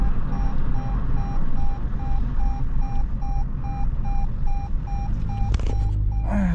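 A Toyota C-HR's unfastened-seatbelt warning beeps in a rapid, evenly spaced series of short tones, clear and insistent over the low rumble of the car driving, with a brief clunk near the end.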